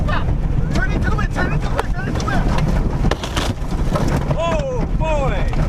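Strong storm wind roars around a storm-chasing van, buffeting the microphone with a constant heavy rush while agitated voices shout over it.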